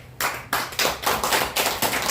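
Several people clap in a hall at a lecture event, a sparse rhythmic series of bright, fairly close claps about every quarter second, with no talk over them.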